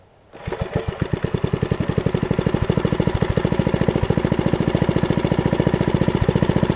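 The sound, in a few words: 50-year-old Merry Tiller Briggs engine starting and idling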